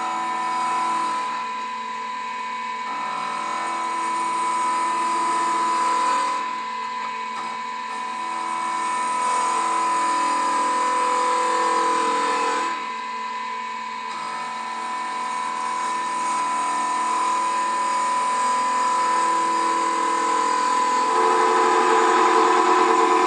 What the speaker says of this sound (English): I've got the lathe running at 2500 RPM for these cuts.